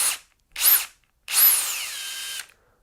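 A Bosch 18V Compact Tough brushless drill spinning its chuck in three high whirring bursts, two short and a longer final one that winds down in pitch, close and clear with silence between.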